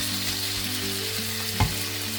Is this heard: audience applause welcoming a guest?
no